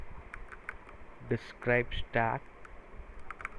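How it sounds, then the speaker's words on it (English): Quick bursts of keyboard typing while entering an AWS CloudFormation command, light clicks scattered around a voice as he speaks two short phrases. "I'm just typing the AWS CloudFormation"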